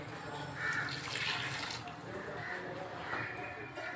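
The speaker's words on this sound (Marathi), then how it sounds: "3 वाट्या पाणी मी ह्याच्यात टाकणार आहे" Hot water streams into a pan of shira (semolina pudding) mixture, a steady close pour with gentle splashing surges, while a voice speaks softly underneath.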